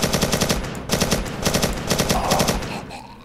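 Rapid automatic gunfire rings out in the video game Way of Hero, loud bursts of closely spaced shots repeating in quick rhythm for several seconds with no talking over it.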